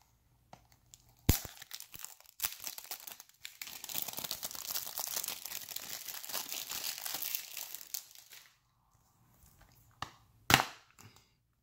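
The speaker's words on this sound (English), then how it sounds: "let's remove the plastic" Plastic shrink wrap being torn and peeled off a Nintendo Switch game box, sharp rips at the start followed by a long stretch of close, steady crinkling, then a final tear after a short pause.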